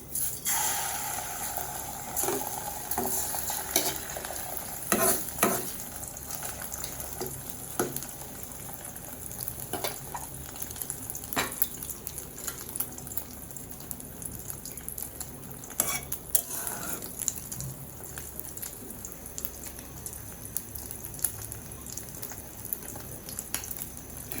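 In a hot wok, cooking khichuri and fried egg, a utensil scrapes and clinks against the metal while food sizzles steadily underneath, with sharp knocks scattered throughout.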